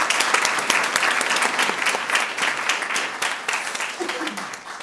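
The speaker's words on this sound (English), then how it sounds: "Let's have a special round of applause for Mayari in that beautiful rendition of this national anthem." Sustained applause from an audience at a U.S. naturalization ceremony in a library, steady dense clapping that stays loud throughout, with a faint voice surfacing near the end.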